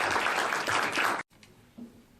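Audience applause for a folk singer at a comic book launch, a dense burst of clapping that stops abruptly after about a second, followed by quiet room sound and a brief murmur.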